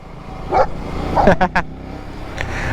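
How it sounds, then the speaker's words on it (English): A dog barks a few times outside during a residential job. Several short, close barks come in quick succession, and a voice speaks over them. "Doggo!"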